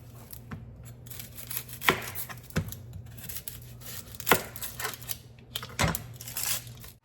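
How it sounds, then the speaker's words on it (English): Knife thinly slicing half an onion on a cutting board, a series of crisp irregular cuts and taps spaced about a second apart over a soft background. "I'm only going to use a half of the onion in this recipe, so I'm just cutting it in half and thinly slicing it"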